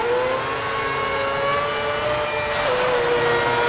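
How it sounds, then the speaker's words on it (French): A Ferrari V8 Formula 1 car engine screams in the racing game F1 2010, a loud, sustained high-pitched whine that holds steady then shifts pitch briefly, with no talking. "Allez, on écoute ce bon moteur V8"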